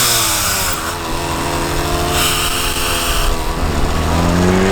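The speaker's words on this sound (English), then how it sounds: "That's the craziest sounding car I've ever heard in my life." A car engine with a $300 Amazon aftermarket supercharger revs hard on a dyno, a loud, sustained, raspy roar with rising and falling pitch that fills the whole stretch, no talk.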